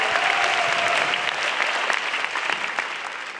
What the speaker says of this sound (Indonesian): Sekali lagi teman-teman tepuk tangan untuk Balai Sarbini.